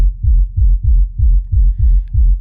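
A steady, slightly off-grid techno kick pattern made in Ableton thumps with deep rumbling sub bass, about eight heavy low pulses with a faint high tick near the end.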